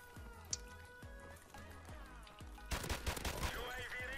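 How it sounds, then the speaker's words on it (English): Gunfire from a G3 rifle in Modern Warfare Remastered: a run of spaced single shots, then a dense, louder burst of rapid fire near the end, under faint game ambience. "right now I'm using one of my favorite weapons in this game is the G3"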